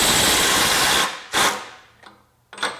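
A Ryobi HP impact driver from the PBLCK01K combo kit runs at its 225 foot-pound setting. It gives a close, harsh, hammering burst for about a second, followed by a few shorter bursts and quieter gaps.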